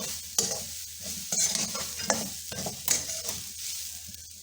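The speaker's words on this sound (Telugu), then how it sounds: "దీన్ని ఇప్పుడు ఇలా వేగించుకోవాలి" Grated coconut frying in ghee in a pan while being stirred: a continuous close sizzle broken by repeated scraping strokes of the spoon.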